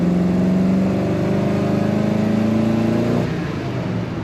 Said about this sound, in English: Nice rumble to this car,